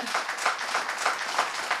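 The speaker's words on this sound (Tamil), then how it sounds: "ஒரு உற்சாகமான கைத்தட்டல் கொடுங்க" An enthusiastic audience applauding to welcome two young speakers to a Tamil stage debate, brief bright clapping from many hands with a loosely pulsing rhythm.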